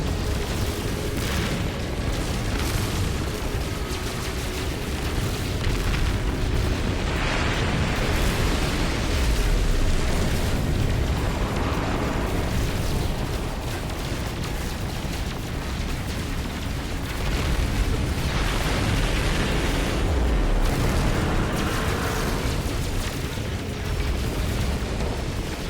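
Enemy missiles explode in the space game No Man's Sky, a dense, continuous roar of booms and rumbling blasts that stays loud throughout with no pauses.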